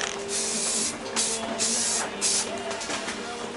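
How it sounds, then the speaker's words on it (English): Aerosol spray paint can hissing onto a sanded, prepped motorbike rear fairing, several close bursts of spraying separated by brief pauses. "I'm just going to give that a spray now, and hopefully get a good covering."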